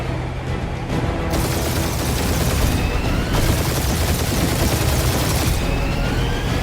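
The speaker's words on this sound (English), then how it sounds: "You're giving them free shots!" Rapid gunfire aimed at ships during a space battle in the Marvel's Guardians of the Galaxy video game, a loud, dense, continuous barrage with bursts of blasts running the whole time and no talk over it.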